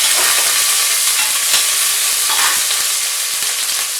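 Onions sautéing in a pan for mushroom biryani make a loud, continuous close sizzle with faint stirring scrapes throughout.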